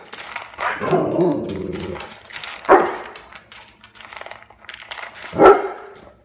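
A hungry female dog waits for her food and lets out a few loud, close barks at intervals, with softer whines and low growling sounds between them.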